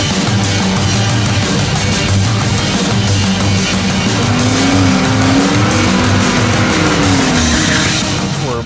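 A drag race car with a 700R4 transbrake transmission rolls up from the burnout box to the starting line, its engine droning loud and steady throughout with a rising whine near the end.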